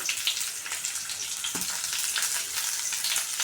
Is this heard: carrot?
yes